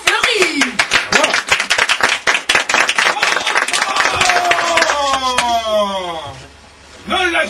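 Theatre audience applause at a stage play: dense, loud clapping from many hands, fading out as a voice begins speaking over the end.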